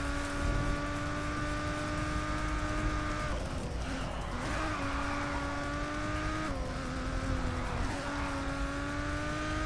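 A race car in Race Driver: GRiD drives with a loud, sustained engine drone, its pitch dipping and rising as gears shift, with tire squeal at a few points.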